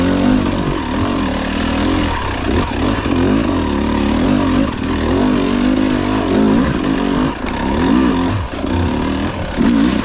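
A KTM 300 TBI two-stroke dirt bike running on a TSP ECU tune is ridden off-road, its engine loud and constant, rising and falling with throttle changes throughout without talk.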